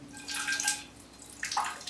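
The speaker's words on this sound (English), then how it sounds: "And then we'll give it some water." Water poured from a can onto the base of a potted orchid, two soft splashing bursts with a brief lull between, faint and close.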